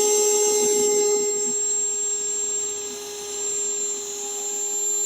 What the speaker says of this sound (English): Okay, let's drill a hole.